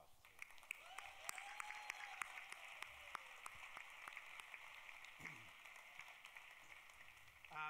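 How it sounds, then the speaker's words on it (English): Faint, distant audience applause at a humanitarian awards presentation, a thin steady patter of clapping with occasional sharper claps over a hum of room noise. "You can give them a little applause."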